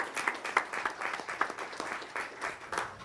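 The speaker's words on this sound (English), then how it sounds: "Let's give the school a round of applause" Modest applause from the audience at a school board meeting honoring an elementary school, a scattered patter of individual claps rising and falling without talk over it.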